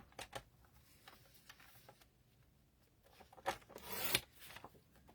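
A paper trimmer slicing a card sentiment: faint scattered rubbing and sliding taps, ending in a short close rasping cut, quiet with no speech.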